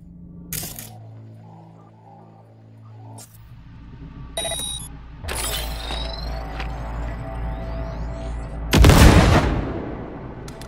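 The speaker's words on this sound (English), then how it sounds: "Now, detonate the grenade." Grenade detonation in the Cyberpunk 2077 video game, a sharp blast late in the clip following scattered game effects, clicks and rumbling ambience.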